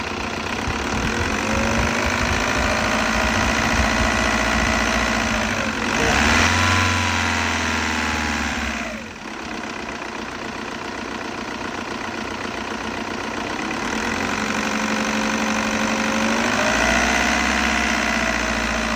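A 2002 VW Jetta TDI with a 1.9 diesel engine idles with a steady, close, knocking clatter, revving up briefly twice before settling back to idle.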